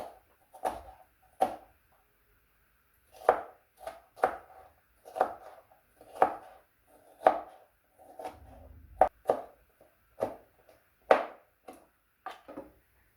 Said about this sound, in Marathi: टोमॅटो पण बारीक चिरून घेऊया.